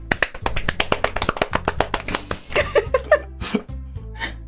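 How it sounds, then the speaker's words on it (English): Applause in the Doki Doki Literature Club visual novel game, a quick run of sharp, close claps that begins crisp and dense, then becomes looser and more scattered before fading, with faint voices mixed in. "The four of us applaud."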